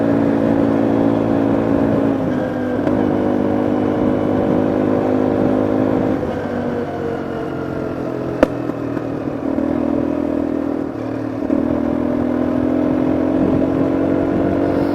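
Engine of a Sym Trackrunner 200 quad with a 172cc engine, heard while riding: a steady, loud drone with small shifts in pitch as the throttle changes, plus a brief sharp click about halfway through.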